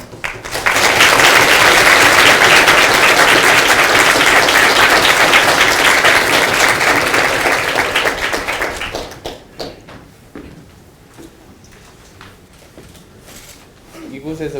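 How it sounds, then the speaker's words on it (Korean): A lecture-hall audience at a university talk gives dense, loud applause lasting about nine seconds. It then fades to scattered claps and room noise, with a voice and some shuffling near the end. "우리 큰 박수로 환영하겠습니다"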